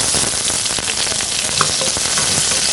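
Small onions frying in a pan for a kurma, a dense, loud, continuous sizzle with fine crackling throughout, no voices present.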